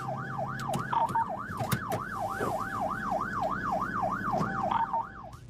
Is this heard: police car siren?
yes